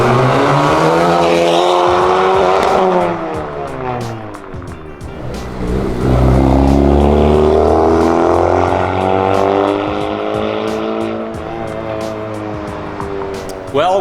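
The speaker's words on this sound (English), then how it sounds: "This is straight up race car exhaust right here." A 10th-generation Honda Civic fitted with a loud race-style exhaust revs up and down repeatedly, its harmonic rasp rising and falling in sweeps, close and loud with brief lulls between pulls.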